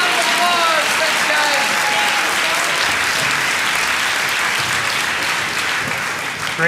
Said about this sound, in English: Our volunteers, a round of applause.